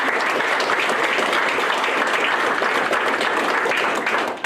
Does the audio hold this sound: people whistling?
no